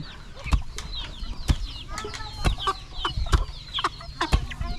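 Chickens cluck and squawk close by in a mountain village in Laos, where rice is being pounded by hand in a wooden mortar; dull thuds from the pestle land at a steady rhythm under the clucking.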